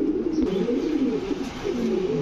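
A Spanish pouter pigeon coos in a cage: a close, steady, low throaty rolling coo that runs through the whole stretch with slight swells, alone and with no talk.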